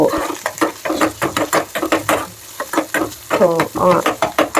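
Onions frying in a pan, stirred with a spatula in a steady rhythm of scraping strokes over a soft sizzle, close and fairly loud.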